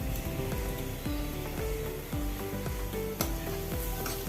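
Spring onion stalk stir-fry with green chilli, garlic and grated coconut sizzles steadily in a pan, with a spoon scraping and stirring in a regular rhythm of repeated strokes, close and continuous, no talking.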